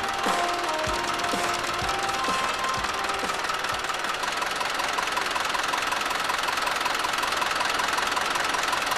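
A steady engine idle runs throughout, with loud continuous mechanical knocking and ratcheting tones holding at an even level during an oil pressure check, with no talk.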